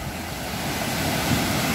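Steady wash of ocean surf on Lampuuk Beach in Aceh, with wind rumbling across the microphone, continuous and fairly loud, no voices.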